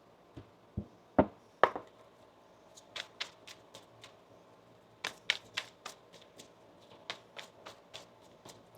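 Tarot cards being shuffled by hand in a quiet room, a series of crisp riffling snaps and soft taps in irregular bursts, close and fairly faint, with no voices.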